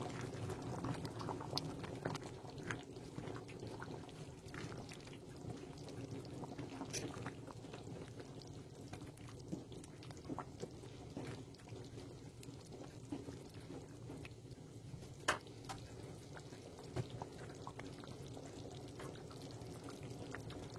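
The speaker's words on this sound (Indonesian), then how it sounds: "Rebus sambil sesekali diaduk supaya bagian bawahnya itu nggak gosong dan juga nggak berkerak ya" Goat rabeg stew, Banten style, simmering in a pot: a soft, steady bubbling and gurgling over a low background hum, faint and continuous, with occasional small clinks and pops.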